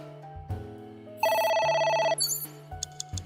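Phone ringing in the video game AI: The Somnium Files: a single bright electronic ring burst, loud and close, set over a soft game music backdrop.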